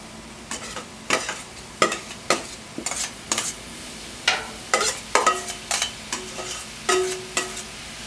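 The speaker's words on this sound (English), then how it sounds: "Now we're going to add our marinated mushrooms to the griddle." Marinated mushrooms sizzling on a griddle, with frequent close metal spatula scrapes and clinks in an uneven rhythm over a constant soft frying hiss, no talking.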